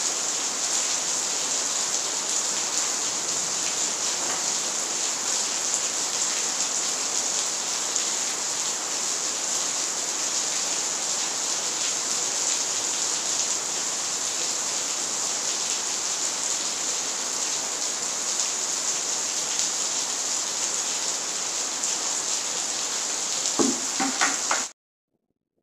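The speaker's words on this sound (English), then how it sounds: "let you enjoy the sound of the rain" Steady rain pours down around a beehive setting, a dense, even hiss of drops that holds constant and fairly loud for over twenty seconds with no talking, then cuts off abruptly after a few brief knocks.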